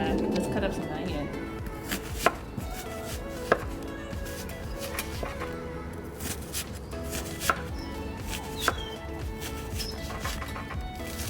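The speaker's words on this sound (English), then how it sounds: "So now let's cut up some onion." A knife chops onion on a cutting board for tamale pie, with steady close cutting taps and a few sharper knocks against the board, heard outdoors with background noise and no clear talk.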